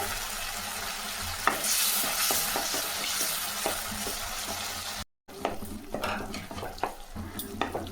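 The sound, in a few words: dried chili and curry leaves frying in oil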